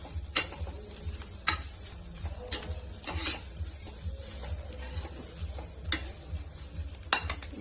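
A spoon stirs and dry-roasts a mixture of semolina and coconut in a pan for gujiya filling, with sharp metal scrapes and clinks recurring irregularly over a faint steady sizzle, close and fairly quiet.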